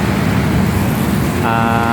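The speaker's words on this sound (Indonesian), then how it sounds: "Kendaraan yang lewat" Dense road traffic streams past on a busy street in Samarinda near the riverside terrace renovation, a continuous engine rumble with a horn-like tone near the end and faint talk in the background.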